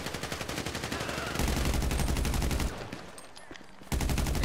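Rapid automatic gunfire in Grand Theft Auto Online, loud and sustained in dense bursts with a brief lull before shooting resumes.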